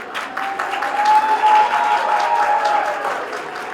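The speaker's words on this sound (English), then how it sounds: "Students, please give a big round of applause." Students clap together at an academic STEM higher education conference, a dense, steady burst of applause that swells in the middle and fades slightly toward the end, with no talk over it.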